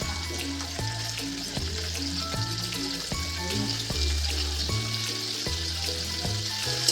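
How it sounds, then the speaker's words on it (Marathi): Tomato with cumin and curry leaves frying in oil, a continuous bright sizzle and crackle that runs throughout, under steady background music. "फोडणीसाठी जिरे, कढीपत्ता आणि टोमॅटो चांगला तेलावर परतून घेतला मीठ टाकून."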